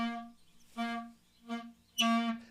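Clarinet played with an air leak, producing a thin, quiet, wavering tone on one pitch in a few separate breathy bursts, the last one louder and brighter.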